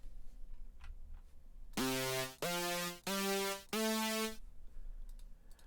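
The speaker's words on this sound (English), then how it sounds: "In Serum, I opened up a simple saw wave" A simple saw wave synth patch in Serum, with instant attack, long hold and short low-pass release, plays four sustained, bright, buzzy notes in sequence, each cut cleanly before the next, alone without talk.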